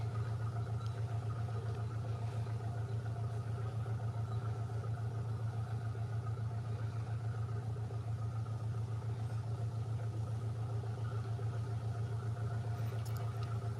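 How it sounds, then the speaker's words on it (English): A day boat's engine on the Norfolk Broads at Horning, a steady low rumbling drone that holds even and continuous throughout with no voices. "Day boat approaching."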